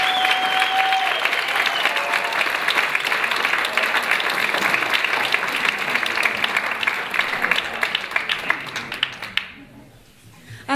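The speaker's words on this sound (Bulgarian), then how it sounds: "Аплодисменти за тях." A concert audience at a diploma concert applauds, with dense, loud sustained clapping for about nine seconds before it trails away quickly.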